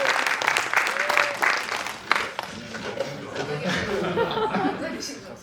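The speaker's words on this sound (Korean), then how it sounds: "박수 한번 부탁드립니다." An audience at a special screening and Q&A for a Korean TV drama claps steadily in a dense, sustained wash of applause, with scattered chuckles and laughter mixed in.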